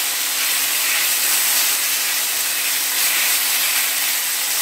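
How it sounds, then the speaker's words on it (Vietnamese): Thinly sliced pork stir-frying in a hot pan, a loud, steady sizzle and hiss that runs unbroken and close up, with no talking. "bây giờ chỉ cần xào cho thịt nó khô là được"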